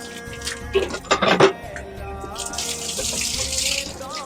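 Water splashes and trickles as feet are washed at a riverside, with irregular close splashes and a steady running-water wash; a voice murmurs briefly underneath.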